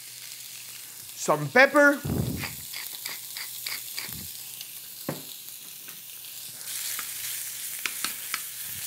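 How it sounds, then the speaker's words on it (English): Fine slices of mahi mahi sizzle in a little grapeseed oil for scrambled eggs with green onions, a steady close frying hiss under brief talk at the start, with occasional utensil taps. "My Mahi Mahi is cooked in fine slice. It's gonna cook very fast."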